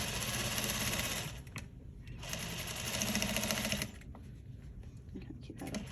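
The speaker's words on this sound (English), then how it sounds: "So what I'm doing here is I'm gonna just stitch right along that edge." A sewing machine stitches along a slant pocket edge in two fast, buzzing bursts with a brief pause between them, close and clear, then settles into quieter handling noise.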